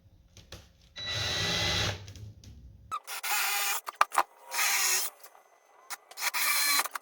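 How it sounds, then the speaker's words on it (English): Bursts of a power drill whirring in short runs, drilling holes in IKEA cabinets, separated by pauses and small clicks and handling noises, fairly quiet and close. "I'm going to do my best to drill these centered and straight down"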